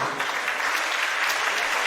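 A church congregation claps steadily throughout a thanksgiving service, a dense, even wash of applause without pauses.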